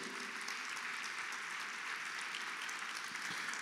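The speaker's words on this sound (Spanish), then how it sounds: "un fuerte aplauso al Señor" Fairly quiet but sustained applause from a church congregation during a Sunday service, an even wash of clapping with no breaks.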